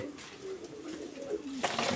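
Soft pigeon coos murmur repeatedly in low tones from a coop, with a faint rustle of movement and a brief brighter burst near the end.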